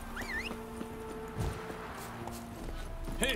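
Faint, quick clip-clop of horse hooves from The Witcher 3, a steady galloping rhythm under a quiet game soundscape with a short whinny-like tone near the end.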